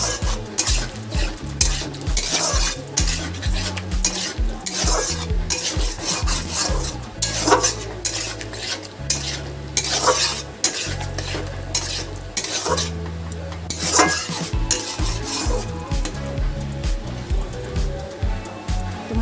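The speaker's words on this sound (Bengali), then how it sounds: "মশলাগুলো কষানোর জন্য অল্প পরিমাণ জল দিয়ে দিচ্ছি। ভালো করে মশলাগুলো কষিয়ে নেব।" Spice paste cooked down with a splash of water in a pan for Bengali prawn curry, with repeated scraping and stirring strokes over a steady bed of background music.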